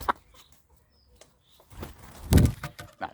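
A hen clucks in a few short, scattered bursts while walking off rather than flying, with a louder cluster of clucks and scuffling near the end; no speech.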